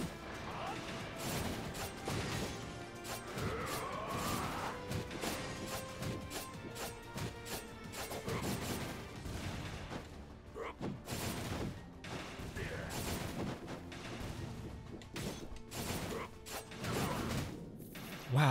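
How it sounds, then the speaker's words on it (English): Mana bombs land on enemies in the action game Skul: The Hero Slayer, giving dense, continuous crashing impacts and whooshes with constant game effects, loud and busy throughout. "Those mana bombs. Inflicts damage when landing on enemies."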